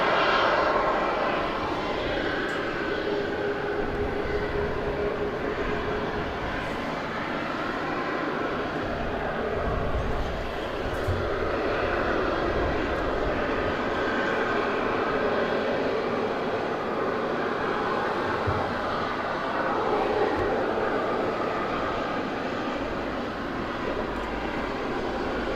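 An easyJet Europe aircraft at Southend Airport rumbles as it taxis to the end of runway 05 for departure, giving a continuous, fairly loud engine roar with broad low rumble over about twenty-five seconds, heard from a distance without talk.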